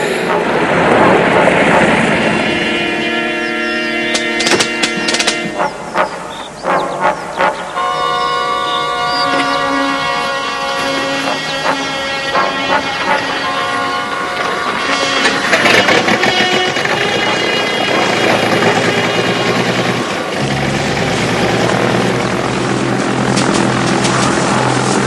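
Aircraft engines running steadily before a flight carrying a duty-free crate, a continuous loud propeller-like drone under layered music and voices throughout.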